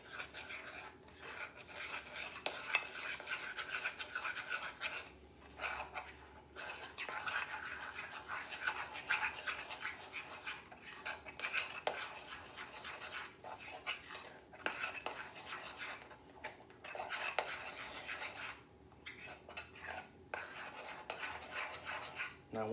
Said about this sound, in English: mix all this together.